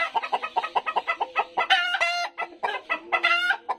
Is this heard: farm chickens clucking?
yes